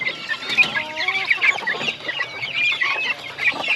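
Several broiler chickens cluck and chatter close by on a farm, a busy overlapping mix of short calls with occasional higher squawks.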